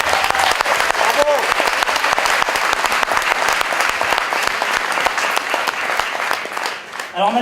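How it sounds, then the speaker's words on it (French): Loud, sustained applause from an audience at a youth sports opening ceremony in Villejuif, France, dense clapping continuing steadily throughout with voices mixed in. "Je vous demande encore une fois de les applaudir très fort."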